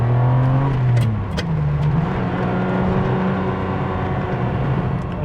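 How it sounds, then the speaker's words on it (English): A 1997 Ferrari 550 Maranello's V12 engine revs loudly up close, the pitch dropping and then settling into a strong, steady roar. "And that V12 does sound familiar."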